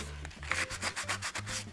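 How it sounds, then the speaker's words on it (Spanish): Fine, soft sandpaper rubs over small ceramic parts of a sunflower-shaped piece in quick, rhythmic back-and-forth strokes, a close, soft scratching with no talking. "procedemos a lijar con lija bien suave todas las partecitas"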